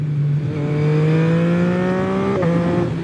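An engine revs hard and loud, its pitch climbing steadily for a few seconds, then briefly dipping as it shifts before rising again.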